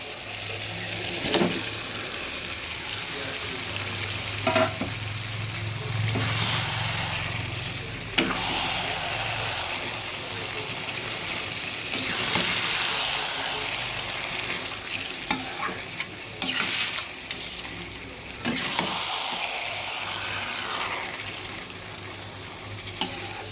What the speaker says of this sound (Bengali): এবার দিয়ে দেবো ম্যারিনেট করা মাংসগুলো